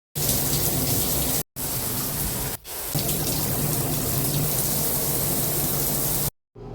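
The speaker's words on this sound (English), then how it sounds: "go ahead, hop in the shower" A shower runs in a steady, dense hiss of spraying water, close and loud, briefly cutting out twice before stopping.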